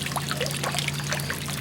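Air bubbles into the water of a small fish tank set up in front of a house, a continuous close gurgling and trickling with a low steady hum of the air pump beneath, no voices.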